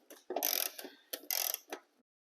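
A torque wrench ratchets on the head bolts of a Small Block Chevy 350 engine under rebuild, giving two short, close bursts of dense clicking with a brief pause between them.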